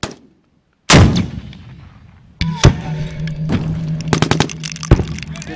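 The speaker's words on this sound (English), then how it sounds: "Rocket!" Anti-tank rocket launcher firing at a military range: a sudden loud blast after near silence, followed by a rumbling tail and a series of sharp distant booms and cracks.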